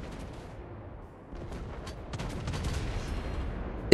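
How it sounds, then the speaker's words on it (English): Naval gun fire in World of Warships, from a Tier VI Greek cruiser. Several overlapping shot and boom bursts rumble over a low, steady battle background, and the level builds toward the end. "Ah, bad salvo for my part."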